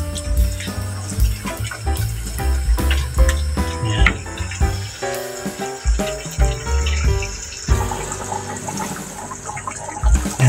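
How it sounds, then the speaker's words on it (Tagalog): Pork calderobo stew boiling in a pot, a loud, steady bubbling and churning liquid sound that runs continuously, with no voices present. "kulong-kulo na"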